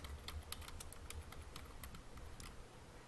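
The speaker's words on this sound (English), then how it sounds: "So you can either finish typing it in" Faint, quick clicking of a computer keyboard as a search term is typed, a rapid irregular patter of soft key taps in a quiet room with no voices.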